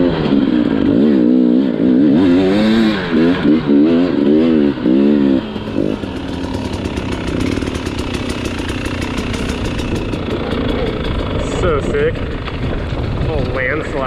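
An enduro motorcycle engine revs and idles on a trail, its pitch rising and falling in repeated throttle blips before settling into a steadier drone, close and loud, with people talking over it.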